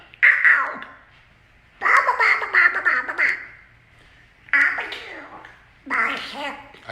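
A voice imitates a cartoon duck's sneeze, giving several nasal, quacking bursts in a row at close range, with short pauses between them.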